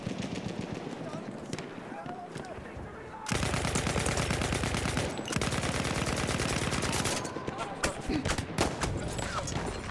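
Battlefield 1 gunfight with dense, rapid automatic fire and crackling shots, quieter at first and then loud and sustained through the middle, with talk mixed in.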